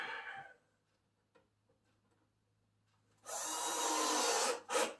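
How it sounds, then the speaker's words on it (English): Power screwdriver driving a screw into a wooden two-bin recycle unit, a short burst at the start, then near silence, then a long steady whirring drive with a brief second burst at the end. "I'm going to fire in all the screws that I need to hold this thing in place"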